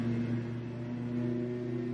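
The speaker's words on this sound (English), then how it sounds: "Someone's mowing their lawn again for like the third time this week, so I apologize for the background noise." A lawn mower runs somewhere in the neighbourhood, a steady low engine drone that continues unbroken in the background.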